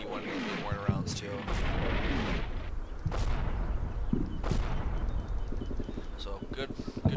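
Explosions of 81 mm mortar rounds in the video game Combat Mission, a dense stretch of repeated booms and crackling blasts with battlefield rumble, heard together with someone talking.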